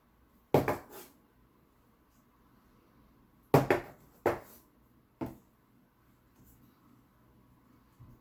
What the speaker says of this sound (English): I'll take it and tap it down to kind of pack it. Use a spoon a little bit to pack it.